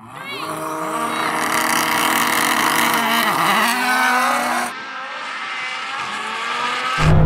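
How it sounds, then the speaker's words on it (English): A rallycross car in a drag race screams as it accelerates hard, its engine pitch climbing through several gear changes and then easing as it pulls away. The sound is loud and close, with a voice underneath. "God, that rallycross car's good."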